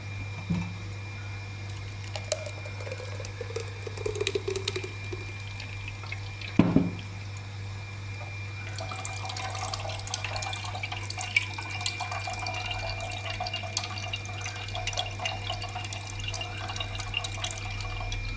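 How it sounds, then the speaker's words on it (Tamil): ABC juice is strained through a filter and poured, with a soft trickle and drips of liquid over a steady low background hum and one sharp clink partway through. "ஜூஸை ஃபில்டர் பண்ணி எடுத்துக்கிறேன்"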